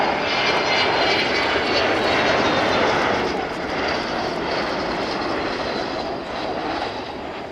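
An Avro Vulcan bomber flies over the Yeovilton Air Day air show in 2014, its jet engines giving a loud, sustained roar that fills the air throughout with little change in level.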